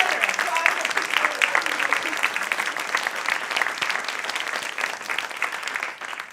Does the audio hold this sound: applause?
yes